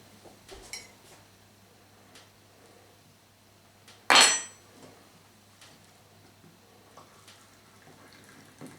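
A single sharp clink of dishes knocking together, brief and fairly close, standing out against an otherwise quiet room with faint background shuffling.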